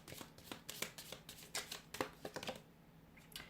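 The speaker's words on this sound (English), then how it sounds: "Now let's go ahead and pull some cards from the Angel Answers Oracle cards." Angel Answers oracle cards are shuffled by hand, giving a quick irregular run of close, soft papery flicks and riffles with brief pauses, no talking.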